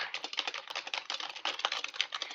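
Fast, steady typing on a computer keyboard, a dense run of close, crisp key clicks with no voice over them.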